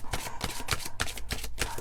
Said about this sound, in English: one more shuffle to see if we get anything else